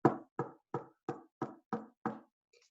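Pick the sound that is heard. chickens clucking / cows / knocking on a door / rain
knocking on a door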